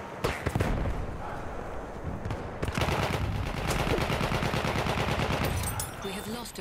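Rapid automatic gunfire from Battlefield 1 multiplayer combat, dense bursts of shots rattling on continuously for several seconds, loud and close, with a short lull before the firing resumes.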